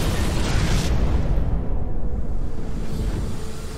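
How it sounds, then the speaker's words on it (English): A cutscene explosion from the Destiny video game: a loud, sustained roaring blast with heavy low rumble that holds steady for several seconds with no speech over it. "moments later, an explosion takes her life"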